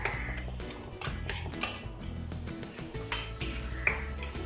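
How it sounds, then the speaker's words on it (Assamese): A spoon stirs Bombay Karachi halwa in ghee in a pan, with scraping strokes, light clinks against the metal and a soft sizzle underneath, all close and fairly quiet. "এইদৰে লৰাই"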